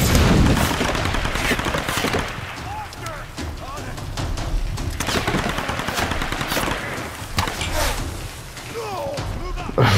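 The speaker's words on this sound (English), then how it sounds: "throwing grenades at me" Grenade explosions and rapid gunfire fill a combat scene in Tomb Raider on PS5, loud and dense throughout with repeated blasts and bursts, while a player's voice is faintly mixed in.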